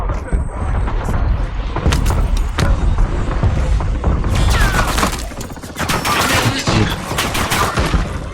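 Enemy gunfire in a video game: loud, dense bursts of rapid automatic fire and scattered booming shots rattle almost continuously, with a brief lull midway.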